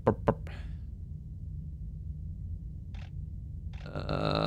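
Burping in short bursts near the start, a couple of abrupt close gulps, followed by quiet with a brief knock and a rising noise at the end; a voice imitates burps.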